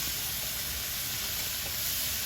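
Cut baby corn sizzles faintly in a hot pan during a stir-fry, a soft continuous hiss with no voices.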